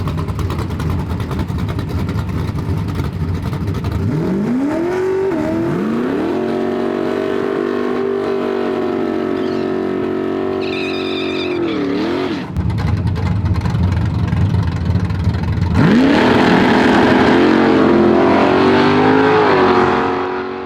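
An AMX drag race car with a high-torque engine roars continuously, its pitch climbing and holding through long pulls, briefly dropping at a shift and rising again into a louder, harsher blast, heard close with no voices.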